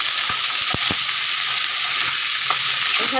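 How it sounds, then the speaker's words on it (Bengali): Green beans and potatoes fry in oil in a pan with a steady, loud sizzle, broken by a few sharp clacks and stirring knocks from a utensil. "এদিকে এটা ভাজা হচ্ছে শিম আর আলু"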